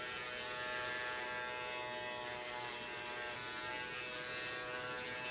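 A Philips Norelco QC5550 hair clipper runs with a steady, even electric buzz that holds unchanged throughout, fairly quiet and close, with no voices.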